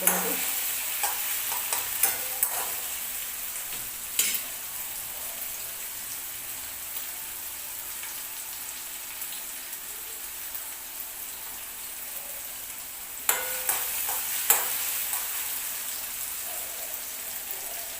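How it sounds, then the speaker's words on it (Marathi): Tomatoes fry in a pan for a dry chickpea dish, giving a soft, steady sizzle with a few sharp spatula scrapes and clicks near the start and end. "हे बघा टोमॅटो व्यवस्थित भाजून घ्यायचे आपल्याला"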